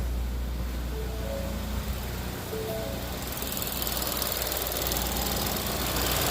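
A Ford Edge engine with 81,000 miles starts up misfiring on cylinder 2, giving a rough, continuous idle with uneven knocking and stumbling pulses, close and steady throughout with no talk.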